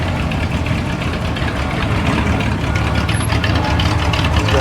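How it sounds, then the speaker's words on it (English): A Nissan six-cylinder engine in a rat rod idles steadily at a Las Vegas car show, giving a continuous close rumble with no pauses and no speech. "it's a Nissan 6-cylinder."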